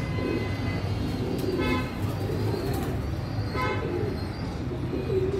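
Bird calls ring out over steady outdoor ambience at a rooftop feeding spot where kites gather, with dove-like coos mixed in and a continuous low background rumble.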